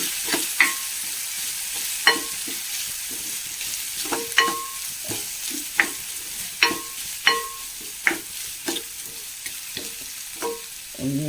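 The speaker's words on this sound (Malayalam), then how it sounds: "എല്ലാം കൂടി നന്നായി ഇളക്കി കൊടുക്കാം" A spoon stirs mango curry in a pan, giving a repeated series of sharp clinks and scrapes against the metal over a low, soft simmer, close and fairly regular.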